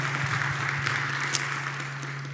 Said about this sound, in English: big applause for Nicolas and welcome to the ConsenSys